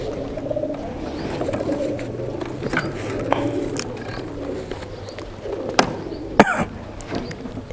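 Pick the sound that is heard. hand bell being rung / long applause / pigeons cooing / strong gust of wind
pigeons cooing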